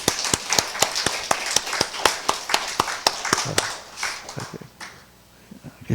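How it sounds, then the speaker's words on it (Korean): Church congregation clapping together for mothers during a Sunday service, a burst of many hands with sharp claps that thins out and stops after about five seconds. "우리 어머니를 위해서 박수 한번 합시다."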